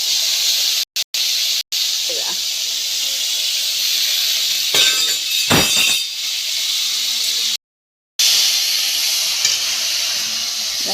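Chickpeas and onion frying in a pan, a loud continuous sizzle and hiss with occasional stirring scrapes and brief cut-outs in the sound.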